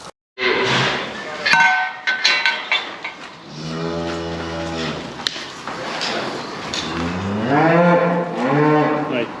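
Cattle low in long, deep moos in a farmyard during a herd test at the crush, with a couple of drawn-out calls separated by clanks and rattles of metal gates.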